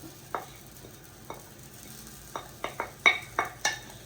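Freshly grated coconut stirred in a dry pan makes a quick series of scraping and light clinking strokes, about ten in all, speeding up toward the end, close and without any voices.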